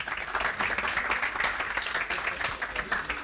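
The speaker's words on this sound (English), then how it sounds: "He deserves a round of applause just for this." Audience at a tech developer conference talk applauding, a quieter but steady stretch of many hands clapping in an irregular, rippling rhythm.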